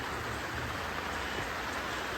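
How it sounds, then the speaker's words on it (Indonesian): Heavy rain driven by wind pours down at a hill campsite between Mount Merapi and Mount Merbabu in Magelang, Central Java, a dense, steady, loud roar with no break and no voices. "Hujannya, hujan angin, deras banget ini."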